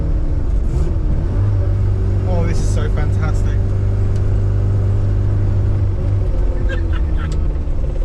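A 1981 Mini 1000 cruises in third gear at about 25 mph, its small engine droning steadily and loudly up close throughout, with someone speaking excitedly over the engine noise.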